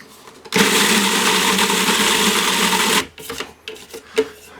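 A blender whirs loudly and steadily for about two and a half seconds, mixing a jerk marinade with brown sugar and soy sauce, then cuts off, leaving light kitchen clatter.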